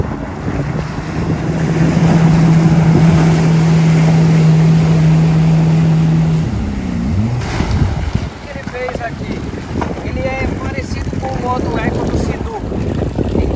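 A 2020 Yamaha FX Cruiser HO jet ski in slow mode accelerates on open water, its engine rising into a steady hum before easing off, with wind buffeting the microphone and water splashing throughout.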